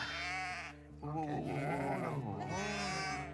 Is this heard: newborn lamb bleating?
yes